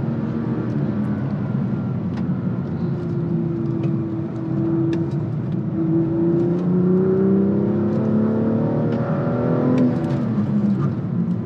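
A manual BMW M2 engine pulls under acceleration from low revs, a steady droning growl with rising tones as it climbs through the range, heard from inside the car with no talking.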